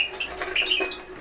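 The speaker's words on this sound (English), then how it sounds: "That noise is this table right here, which is actually my grandfather's typewriter stand." An old wooden typewriter stand, once a grandfather's, creaking and squeaking as it is moved, a short run of high, scratchy squeals with no talking.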